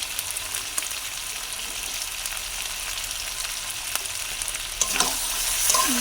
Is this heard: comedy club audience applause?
no